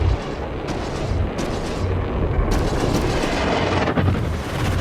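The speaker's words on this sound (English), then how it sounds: "Somebody's shooting." Space combat gunfire in Star Citizen, a continuous roaring barrage of heavy blasts and rumbling impacts that stays loud and dense throughout, with no voices.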